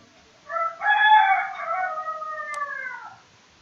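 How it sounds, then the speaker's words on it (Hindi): A single rooster gives one full cock-a-doodle-doo crow lasting about two and a half seconds, loud and clear in an otherwise quiet setting. "मुर्गा ने भी बोल दिया"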